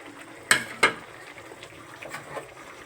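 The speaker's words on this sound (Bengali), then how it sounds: "এই ট্যাংরা মাছগুলো আমি এখন দিয়ে দিলাম।" Fried egg-laden tangra fish dropped into simmering water in a pan, two distinct splashy plops in quick succession, then faint bubbling and small clinks.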